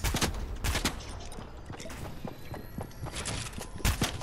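Rapid gunfire in the shooter Fortnite cracks out in dense irregular bursts, loud and close, over a busy layer of battle noise, with no talking.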